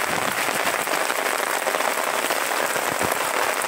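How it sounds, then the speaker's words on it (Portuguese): Heavy rain pours down steadily in Sobral, Ceará, a dense, loud, continuous hiss of drops on surfaces with no pauses and no voices. "Essa chuvinha maravilhosa."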